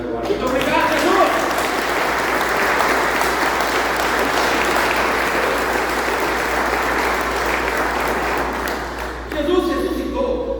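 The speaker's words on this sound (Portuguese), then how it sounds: "eu vou aplaudir Jesus agora" A Methodist church congregation at a men's gathering breaks into sustained, loud applause, a dense wall of clapping that swells and holds for several seconds before tapering off as a voice returns at the end.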